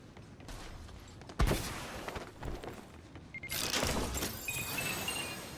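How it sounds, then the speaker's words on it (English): Fireworks bursting in a video game: a sharp loud blast followed by scattered crackling pops and sizzling, then a denser rush of bright crackle near the end. "Looks like they've got some fireworks planned."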